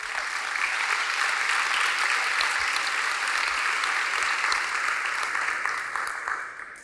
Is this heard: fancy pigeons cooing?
no